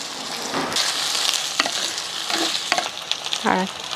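Tomatoes and brinjal sizzle steadily in a clay pot over a wood-fired stove, a continuous close fry with occasional stirring scrapes and clinks on top.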